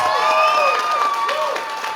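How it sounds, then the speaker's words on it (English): Audience applause mixed with loud cheering and high-pitched whoops at a church showcase, a crowd clapping steadily while shrill voices rise and fall over the top. "giant round of applause"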